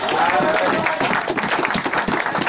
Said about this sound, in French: Une acclamation pour lui.